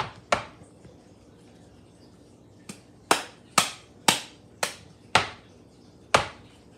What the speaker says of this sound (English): what you want to do first is cut up the Spam in thin slices